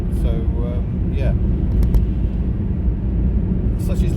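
Cabin of a Mazda 323F cruising at 60 mph, filled with a steady low road and engine rumble, with someone talking intermittently over it.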